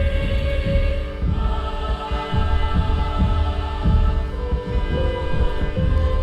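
Kick drum in a live-composed electronic production, thumping in a steady low throb beneath sustained droning hum and layered synth tones, no voices.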